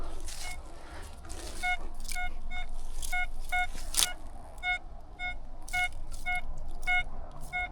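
A metal detector gives repeated short electronic beeps in an irregular rhythm over old trenches, with one brief sharp click partway through, outdoors with faint background rumble.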